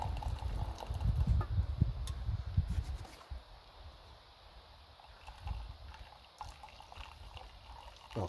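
Water pours and trickles through a handmade bushcraft strainer at camp, a splashy, gurgling rush at first that thins to a faint dribble, close and alone without speech.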